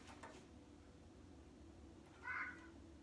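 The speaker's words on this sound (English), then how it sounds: "the cat is over there just going crazy right now." A cat lets out a single short, excited meow midway through an otherwise quiet room with a low background hum.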